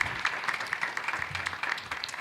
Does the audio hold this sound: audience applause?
yes